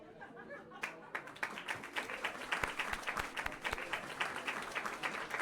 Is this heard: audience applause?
yes